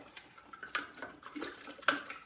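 A metal spoon clinks and scrapes against a container while stirring sugar into kombucha tea, a series of faint, irregular light taps and rattles close by.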